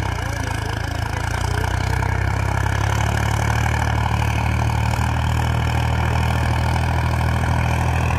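A tractor engine running steadily in fourth medium gear, its low mechanical drone and chugging hum continuing loud and close without a break.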